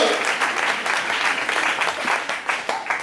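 A church congregation breaks into sustained applause, a dense wash of clapping that rises and falls over a few seconds with no pauses.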